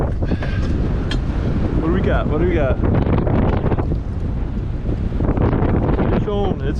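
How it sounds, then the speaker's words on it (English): Strong wind buffets the microphone on a fishing boat at sea, a constant heavy roar throughout, with a voice and brief shouts over the gusts. "It's windy out here."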